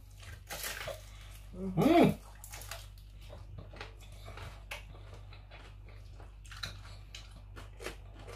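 Crisp crunching bites into a crispy fried pork head, eaten by hand at a mukbang meal; a loud burst of crackling chews stands out, with smaller crunches and faint handling noises around it.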